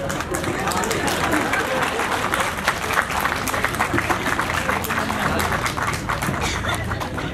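A large crowd claps and cheers at a comedy show in a cricket stadium in Chitwan, Nepal, a loud, continuous wash of applause mixed with crowd babble that stays dense for the whole stretch.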